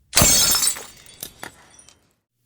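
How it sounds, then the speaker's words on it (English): A wooden knife block smashes through a window, glass shattering in a loud burst followed by a few scattered tinkling fragments falling, then silence. "I threw the wooden knife block from the counter through the window, shattering a few panels at the center"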